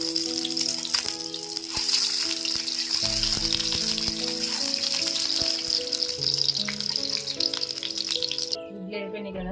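Eggs fry in hot oil for a mutton biryani meal, a steady close sizzle and crackle with scattered spits, while faint voices and background hum run underneath before an abrupt cut at the end.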